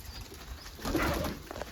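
A low, soft pigeon coo swells briefly up close, murmuring over a faint steady background hum.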